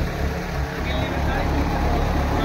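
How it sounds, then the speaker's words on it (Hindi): A tractor engine running steadily while driving a jugaad thresher on a farm, a loud continuous low mechanical rumble throughout with a voice talking nearby. "ट्रैक्टर ये नंबर का चल रहा है"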